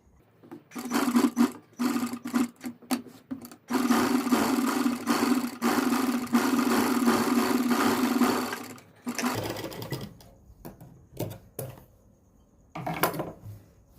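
Sewing machine stitching a neckline design on a suit with anchor thread, a close whirring run for several seconds, then short stop-start bursts and pauses.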